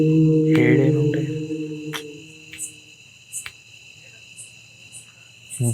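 Insects chirp at night in a graveyard, a steady, shrill high-pitched drone that runs the whole time, with a few sharper ticks and a short burst of voice near the start.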